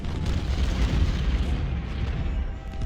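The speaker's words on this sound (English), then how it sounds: "Cannons are doing a great job. These are the 10-pounders." Ten-pounder cannons fire in a Civil War battle in the game Ultimate General: Civil War, heard as a dense, continuous rumble of booming artillery with overlapping blasts, loud and without speech.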